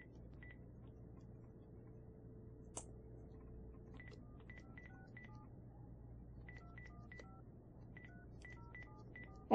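A phone keypad beeps through a quick series of separate dialing tones in short irregular bursts, fairly faint over a low steady hum.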